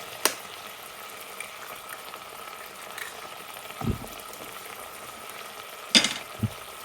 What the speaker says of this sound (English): I am cooking with a little bit of butter, and to that I am going to add a couple of eggs